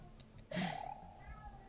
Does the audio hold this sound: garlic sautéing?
no